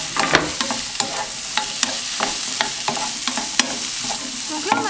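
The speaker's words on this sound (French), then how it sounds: "je vais faire revenir mon ail et mon oignon" Garlic and onion sautéing in a pan for a Tunisian chakchouka, an even close sizzle punctuated by sharp clicks and knocks of a utensil stirring against the pan, with no speech.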